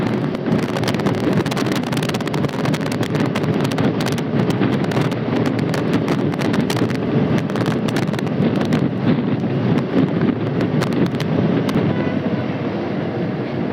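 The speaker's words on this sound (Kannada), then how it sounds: "ಗಾಳಿ ಬೀಜನುಂಡು" Strong wind blows steadily and roughly for the whole stretch, rushing and buffeting close to the microphone with no speech.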